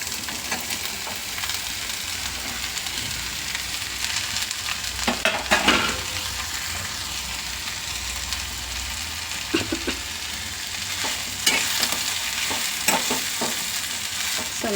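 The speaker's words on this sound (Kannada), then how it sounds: "ಸ್ವಲ್ಪ ಒಗ್ಗರಣೆಲೇ ಎಲ್ಲ ಸ್ವಲ್ಪ ಮಿಕ್ಸ್ ಮಾಡ್ಕೊಂಬಿಡೋಣ." Onion and ridge gourd stirred in a hot tempering for palya, a steady sizzle of frying with intermittent scraping stir strokes, close and continuous with no talking.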